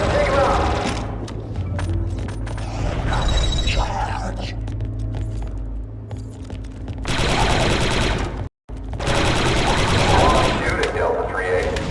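Heavy blaster gunfire in the Star Wars Republic Commando video game, loud sustained bursts of rapid shots with booming impacts, cutting out briefly near the end before resuming at full intensity.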